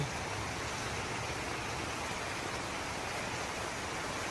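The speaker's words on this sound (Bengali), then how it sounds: "সকাল সকাল দেখুন কি সুন্দর বৃষ্টি হচ্ছে" Steady morning rain pours over a house in Balasore district, Odisha, a dense continuous hiss of heavy rainfall with no pauses, filling the whole scene evenly and fairly close.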